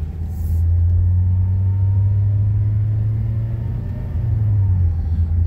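A Ford Focus with a DPS6 dual-clutch transmission accelerates uphill, its engine a loud, steady low rumble from inside the car, the pitch dipping and resettling near the end as a delayed, clunky shift comes through.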